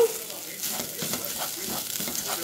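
Garlic and seasoning fry in a pot as the base for rice, giving a brief, steady crackling sizzle at close range with faint stirring.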